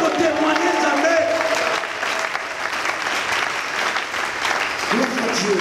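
A church congregation at a French-language prayer marathon bursts into sustained applause, dense steady clapping that fills the room, with voices calling out underneath.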